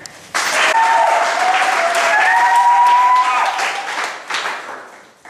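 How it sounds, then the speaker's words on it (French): A roomful of guests applauds at a civil wedding ceremony. The clapping swells suddenly into dense, loud applause that holds for about four seconds before it fades out, with a few voices mixed in. "Est-ce qu'on ne peut pas applaudir?"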